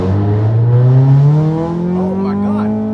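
A Honda Accord with a nitrous oxide setup revs hard, its engine tone climbing steadily toward 4,000 RPM, loud and close inside the car as it accelerates.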